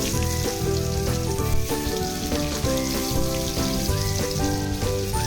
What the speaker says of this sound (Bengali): তারপরে দিয়ে দিলাম তেজপাতা এখানে দিয়ে দেবো একটু পেঁয়াজ কুচি